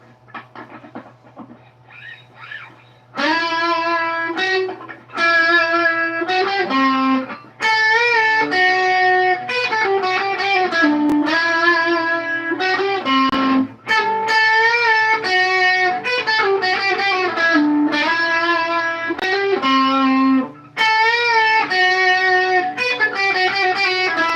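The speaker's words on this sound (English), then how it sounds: "Lead with a touch of reverb." An electric guitar plays a sustained, melodic lead line with reverb tails, notes ringing over a steady low hum, with brief pauses between phrases.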